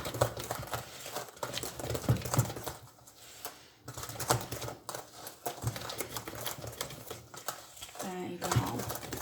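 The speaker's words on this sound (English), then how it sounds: "So I'll give it a good whisk." Batter with coconut being whisked in a bowl, rapid uneven tapping and scraping strokes close up, with someone talking over parts of it.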